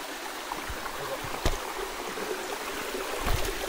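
A natural waterfall with many outlets pours in a steady broadband rush of falling water, continuous and fairly close, with a couple of faint knocks and no talking.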